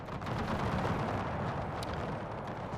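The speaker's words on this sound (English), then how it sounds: "Seems like they just targeted him with all their artillery." Artillery fire in Napoleon: Total War with the Era Mod, a dense continuous rumble of distant booming cannon volleys that blend into a steady roar with no clear gaps.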